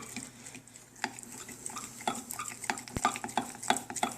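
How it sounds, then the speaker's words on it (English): Chocolate truffle filling being stirred in a pot, with soft scraping and clinking of a utensil against the container in an irregular rhythm, close and fairly quiet. "I'm going to keep stirring it."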